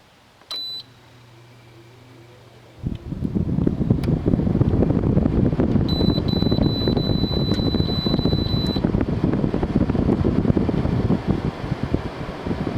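A 2012 Frigidaire 6000 BTU window air conditioner, model FRA065AT7, beeps, then its fan kicks on into a loud, steady whooshing roar that continues without a break, with a faint high electronic tone partway through.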